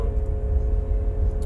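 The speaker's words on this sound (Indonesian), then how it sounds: "memang diwajibkan mobil listrik itu untuk mengeluarkan suara di luar supaya memperingatkan pejalan kaki dan sebagainya itu bahwa ada mobil" DFSK Gelora E electric minibus emitting its external pedestrian warning sound, a steady synthetic hum with a sustained tonal whine over a low rumble, continuous and fairly loud.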